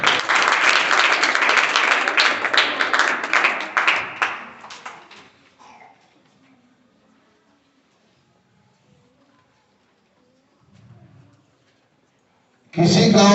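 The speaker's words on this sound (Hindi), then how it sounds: "बहुत अच्छा, ताली बजा दो।" Schoolchildren in a maths class burst into loud group clapping for about four seconds, which fades to near silence, broken only by faint sounds, before a second loud burst starts at the very end.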